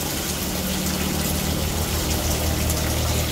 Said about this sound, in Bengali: আগে বালতিটা ভরতে দাও